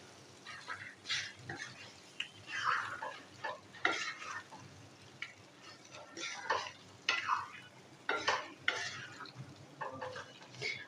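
Chicken pieces stir-fried in a pan on medium-low heat for kastoori cheese boti, with a soft continuous sizzle broken by repeated scraping and stirring strokes of a utensil against the pan, fairly quiet and close.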